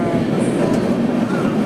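Thiruvananthapuram weekly express train at platform 4 of Salem Junction, a steady loud rumble of rolling railway cars close by, with a faint voice mixed in.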